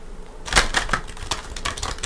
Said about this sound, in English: I'm going to give it a couple shuffles.